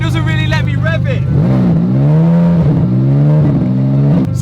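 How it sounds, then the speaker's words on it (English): A wrecked Lamborghini Aventador SVJ engine revs loudly nearby, its pitch swelling and falling in a few uneven bursts as if held back by a fault. "it doesn't really let me rev it"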